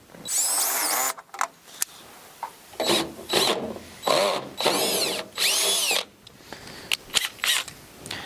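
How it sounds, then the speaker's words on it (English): A power drill with a 7/64 bit whirs in several short bursts, stopping and starting as it bores into wood, close and loud with brief gaps between. "We'll go ahead and drill our hole."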